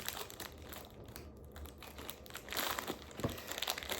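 Steady crinkling and crackling as scissors cut open a package, close and fairly quiet, with rustling plastic and small snips continuing throughout.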